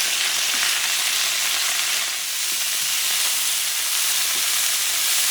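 Beef chunks browning in a pot for Puerto Rican carne guisada give a steady, close sizzle with a continuous hiss and a few soft stirring scrapes, with no talking.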